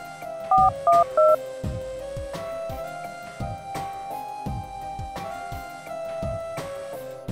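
A phone number is dialed with three quick touch-tone beeps near the start, followed by a soft steady tone under faint background sound.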